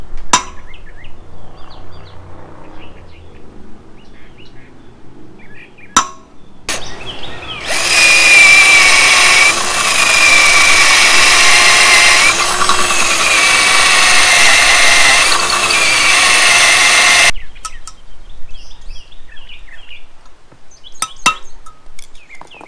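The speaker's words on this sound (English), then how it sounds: "and drill it out" Power drill boring out metal on an old VW Rabbit pickup, a loud close whine lasting about ten seconds, with quiet clicks and faint birdsong before and after.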